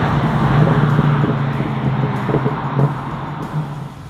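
A 1968 Chevrolet Camaro RS/SS restomod with an LS3 V8 driven on the road, a steady low engine drone with road noise from inside, rising briefly a few times.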